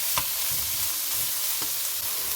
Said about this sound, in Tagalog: Ilahok na ang ating malinis na atay. Sangkutsahin ito hanggang sa magbago ang kulay niya.